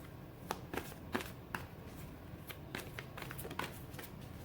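Tarot cards are shuffled and drawn, a quiet run of soft riffling flicks and taps at close range, faint and without speech.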